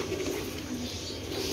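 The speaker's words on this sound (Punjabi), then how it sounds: "ਇਹ ਦੇਖੋ ਮਾਸ਼ਾਅੱਲਾ, ਕਿੱਡਾ ਤਕੜਾ ਕਬੂਤਰ ਹੈ ਇਹ।" A large, strong pigeon coos in a low, steady, rolling tone that runs continuously and close, with no other sounds standing out.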